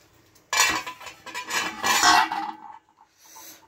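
A metal spoon scrapes and scoops hot mutton biryani up from the bottom of a pot, giving a few seconds of loud clinking and rasping with a short pause and then fainter scraping.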